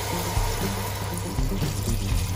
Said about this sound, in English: So I'm adding the water.